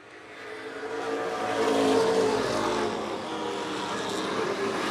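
Pro stock race cars roaring past on an oval track, a loud sustained engine drone that swells to a peak midway and stays strong, heard from trackside with no speech.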